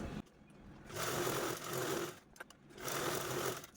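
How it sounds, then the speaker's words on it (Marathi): Sewing machine stitching a double seam in cloth, with two loud bursts of rapid mechanical stitching separated by a short pause and a few clicks, close by with no talk. "मी इथे पुन्हा डबल डबल टिप देऊन घेते"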